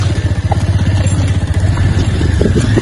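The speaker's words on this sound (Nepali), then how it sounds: "मेरो बाइक त अस्ति भर्खरै सर्भिसिङ गरेर गर्ने त तर आवाजै कस्तो छ" A recently serviced motorcycle engine runs close by with a steady, rapid clattering pulse and a rough, uneven tone.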